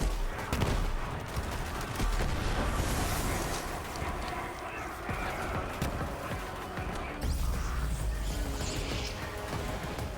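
Dense, continuous gunfire from Borderlands 3 game combat, with rapid bursts and repeated shots blending into loud, sustained barrages across the whole stretch, without talk.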